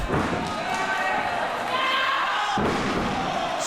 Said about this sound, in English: Slams her down to the canvas